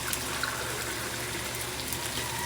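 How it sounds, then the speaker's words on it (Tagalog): Water poured into chicken adobo cooking in a pan, a continuous close gush and splash of liquid with steady sizzling underneath, no talk. "Tapos ay lagyan natin ng tubig."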